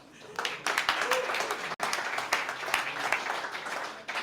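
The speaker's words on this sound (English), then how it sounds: "Big applause because a great adventure is starting from today." Audience applause opens a startup pitch competition, with sustained clapping from a room full of people and sharp individual claps poking through. A voice speaks over it in places, and a brief cut falls partway through.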